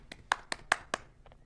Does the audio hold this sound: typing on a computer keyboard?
no